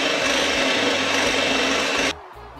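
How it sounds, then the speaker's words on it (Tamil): An electric beater whirs steadily and close while whipping 100 ml of whipping cream in a bowl for cassata ice cream, then cuts off abruptly near the end, leaving quiet room tone. "இப்போ இந்த விப்பிங் கிரீம் டபுள் மடங்கு ஆகிற வரைக்கும் பீட் பண்ணிக்கலாம்."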